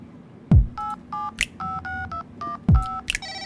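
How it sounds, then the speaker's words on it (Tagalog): Telephone keypad dialing, a string of DTMF tones: short two-pitch beeps in an irregular sequence, clear and close, with a couple of low thumps between them. "At tinawagan ko siya."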